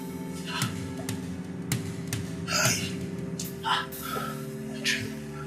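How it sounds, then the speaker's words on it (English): A person pants and gasps after waking from a nightmare in a Nigerian Nollywood drama scene: heavy breaths close to the mic, roughly one a second, over a steady background tone. "Why are you panting?"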